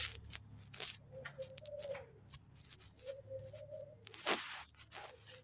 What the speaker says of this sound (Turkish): kuş ötüyor ya.